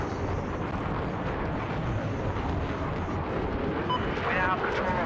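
UCAV strike in the Battlefield Firestorm video game, a steady roaring rumble of explosions and jet noise, loud and continuous, with a faint radio-style voice mixed in.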